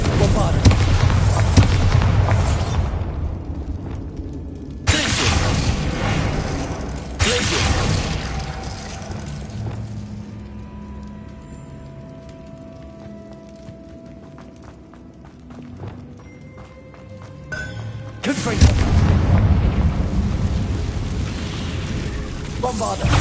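Spell blasts from Confringo and Bombarda in the Hogwarts Legacy game on PS5, loud bursts and rumbling impacts at the start and end with clattering debris and quieter game sounds between.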